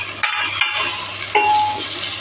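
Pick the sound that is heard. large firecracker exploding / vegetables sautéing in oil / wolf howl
vegetables sautéing in oil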